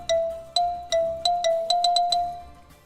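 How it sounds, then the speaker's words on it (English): A bell struck in a rapid melodic run of bright ringing notes, the tune resembling a Skype ringtone, about eight strikes each decaying before the next, clear and close with no talk. "the ringing of the bell sounds just like Ooh. the Skype dial tone"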